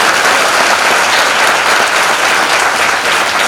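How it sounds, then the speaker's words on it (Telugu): A church congregation at a dedication service claps loudly together, a dense, continuous wash of applause that holds steady from start to finish. "పట్టాలి, గట్టిగా చప్పట్లు కొట్టాలి."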